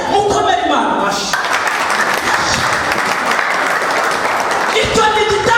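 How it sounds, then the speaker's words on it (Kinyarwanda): Congregation in a church applauding God, a dense wash of clapping that swells loud and steady for several seconds between stretches of a preacher's amplified voice. "Mukomere Imana amashyi."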